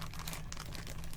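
Short stretch of crinkling and tearing as a plastic mystery bag is cut open, steady and close, with no voices.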